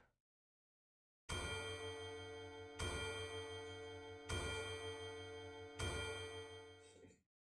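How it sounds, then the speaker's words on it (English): Four loud, evenly spaced clock chimes ring out after a moment of silence, each struck tone blooming with rich harmonics and sustaining until the next, the last fading away. "The chiming of the clock rings out loudly."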